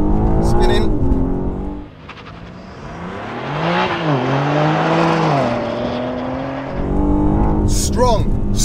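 A BMW M3 Competition launches hard from standstill, its engine rising through several loud gear pulls with brief dips at each shift and some tyre spin at the start, while people react excitedly around it.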